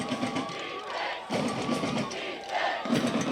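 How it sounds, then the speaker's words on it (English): A high school football game crowd cheers and roars in the stands, a loud continuous swell of many voices that rises and falls in waves. "Crowd getting into it."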